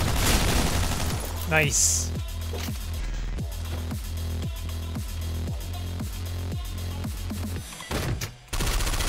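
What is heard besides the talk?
shotgun gunfire in video game OTXO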